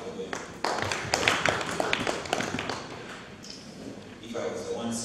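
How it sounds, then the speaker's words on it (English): An audience at a regional health sector review meeting breaks into applause, a burst of sharp overlapping claps that swells and then thins out, with a speaker's voice over the tail end. "We need to clap for them."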